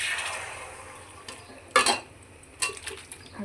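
Pressure-cooked mutton is tipped into a hot wok with a couple of distinct clattering thumps over a soft background sizzle, close and fairly quiet, with no talking.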